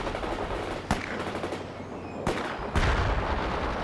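Gunfire in World in Conflict against a steady roar of battle, with a few sharp shots punching through and a heavier burst of fire near the end.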